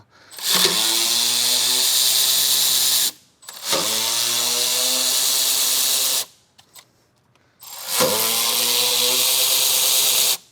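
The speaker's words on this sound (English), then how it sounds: "Now we just gotta remove the 10 mm bolts on the top" A power tool whirs in three long, steady bursts of about three seconds each, separated by short pauses, while 10 mm bolts come off the top of a 2001 Dodge Cummins diesel engine; loud and close, with no talking.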